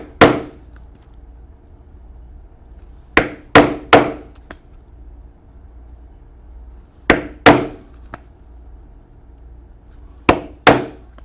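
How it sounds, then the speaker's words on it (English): Sharp hammer strikes drive a 1/8 inch hole punch through leather, landing in close pairs and triplets with quiet gaps between them, loud and near with no talk. "I will take a 1/8 inch punch, and I'll punch at the crossroads of each of those lines."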